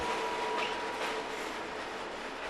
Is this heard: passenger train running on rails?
yes